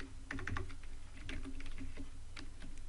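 Code typed on a computer keyboard, quick irregular key clicks in short bursts, close and clear with no talking.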